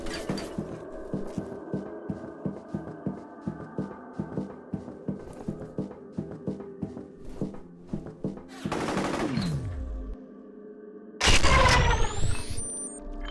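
Gunfire in the video game F.E.A.R., a rapid rhythmic string of loud shots for several seconds, followed by a whooshing blast, a brief lull, and another heavy burst of fire with ringing tones.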